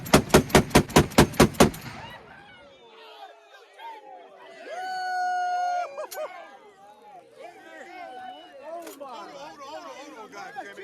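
A heavy automatic gun, a chopper, fires a quick burst of about seven loud close shots, then stops; excited people talk and shout over room noise afterward.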